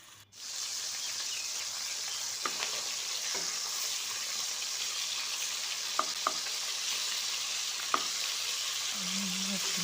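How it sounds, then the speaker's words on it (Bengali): Shapla fish coated in turmeric and salt frying in hot oil, a steady broadband sizzle running throughout with a few faint pops and clicks, close and continuous with no talk. "মাছগুলোর মধ্যে হলুদ লবণ মেখে নিয়েছি, তারপর ভেজে নেব"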